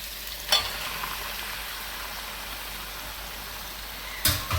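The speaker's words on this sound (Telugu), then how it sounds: "ఉల్లిపాయ పేస్ట్, పచ్చిమిరపకాయ చక్కగా ఈ విధంగా వేగినాయి కదండి. ఇప్పుడు కూర వేసేసుకుందామండి." Onion paste and green chillies fry for mutton curry with a steady, close sizzle, broken by two sharp scraping clatters of a utensil, one near the start and one near the end.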